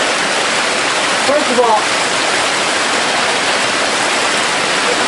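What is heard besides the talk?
Blauthaler waterfall rushing, heard from underneath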